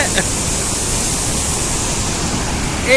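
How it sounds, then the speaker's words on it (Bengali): Water released from the Massanjore dam on the Mayurakshi river roars in a dense, constant rush, loud and unbroken throughout, with a faint voice near the end. "কি ভয়ঙ্কর রৌদ্র বৃষ্টির পরে ড্যাম থেকে জল ছাড়া হয়েছে।"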